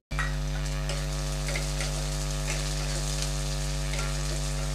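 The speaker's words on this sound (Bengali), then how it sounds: "এবার আমি এর মধ্যে পেঁয়াজ দেব, একটা মিডিয়াম সাইজের পেঁয়াজ কুচিয়ে দিয়েছি।" Chopped medium-sized onion sizzles in hot oil over a low-to-medium gas flame, a loud, continuous frying crackle beginning abruptly and holding steady over a constant hum.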